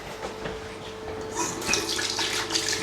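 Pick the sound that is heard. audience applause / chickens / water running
water running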